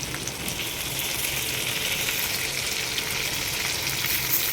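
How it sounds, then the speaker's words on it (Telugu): Curry leaves hit hot masala while a brinjal curry fries. A dense, steady sizzle holds loud and close for the whole stretch, with a faint rain-like crackle and no talking. "ఇప్పుడు కరివేపాకు వేసుకుంటున్నాను"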